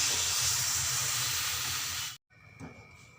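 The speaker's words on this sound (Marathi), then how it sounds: "आता त्यावरून टाकायचं पाणी" A strong hissing sizzle as water is poured over raw mango in a hot pan, which cuts off abruptly into quiet with a faint thump.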